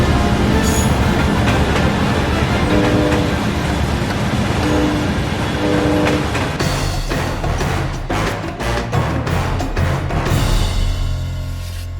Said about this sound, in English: we're waiting for a train to come past before we can set off